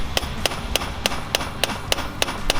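A hammer taps a metal carburetor on a Honda CB250 motorcycle in a steady rhythm, about nine sharp strikes evenly spaced, close and fairly loud over faint background noise.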